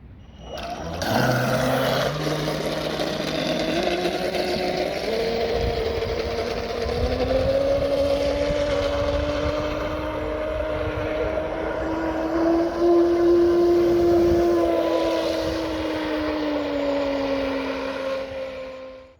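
A Traxxas M41 RC boat with an aluminium propeller runs a speed pass, its electric motor rising to a steady high whine that holds and shifts slightly in pitch, loud and fairly close throughout.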